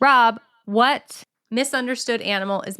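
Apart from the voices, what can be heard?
No everyday noise stands out behind the speech.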